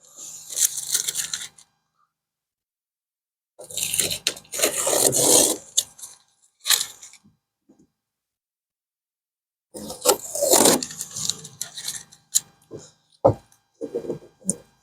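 Adhesive remover is rubbed over a 2005 Toyota Corolla body panel to clear excess adhesive around a reattached side molding, heard as three separate bursts of dry scraping and rubbing with silent pauses between them.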